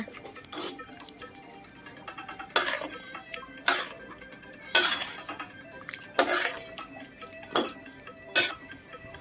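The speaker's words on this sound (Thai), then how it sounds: "แล้วคนไปคนมาให้น้ำตาลปี๊บกระจายไปทั่วๆกระทะค่ะ" Metal utensil scraping and clinking around a wok as palm sugar is stirred in, a series of sharp, irregular close-up knocks over a quiet kitchen background.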